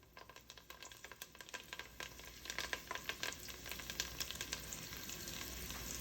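Asparagus sizzling in hot frying oil, a steady crackling fry with quick pops that grows denser and slightly louder after a few seconds, close by and with no talking.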